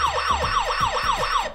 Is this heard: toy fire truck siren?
yes